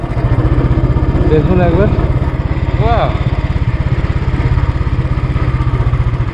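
A motorbike bounces along a rough, broken shortcut road, its engine chugging close and steady under clatter from the bumpy surface, while someone talks over the ride.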